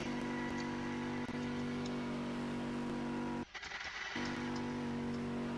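Engine of a Lamborghini race car in a Roblox racing game, a loud steady drone with a sustained tone throughout, briefly cutting out near the end before resuming.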